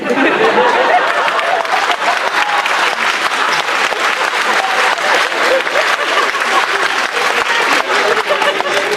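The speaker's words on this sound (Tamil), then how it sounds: "நிறைய கைத்தட்டினா உடம்புக்கு நல்லதுன்னு ஓயாம சொல்லிட்டே இருந்தாங்க." Audience applause at a Tamil public speech, dense and steady clapping that fills the whole stretch, close and loud, with faint crowd murmur mixed in.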